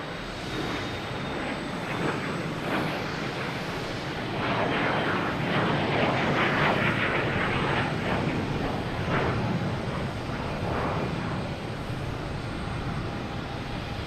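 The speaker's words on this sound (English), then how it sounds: "We have a Challenger 350 heading to Santa Ana. Taking off on 22 right." A Challenger 350 business jet takes off on runway 22 right at Boston Logan Airport, its engines building into a loud, sustained roar that swells and rumbles through the middle before easing slightly, heard from a spotting position without talk.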